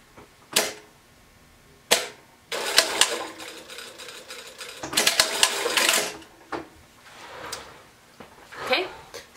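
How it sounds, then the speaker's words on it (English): A sewing machine stitches across the top of a folded T-shirt neck band, running in two short bursts separated by quiet gaps with sharp handling clicks, close and moderately loud. "we're just going to stitch right across the top of that neck band"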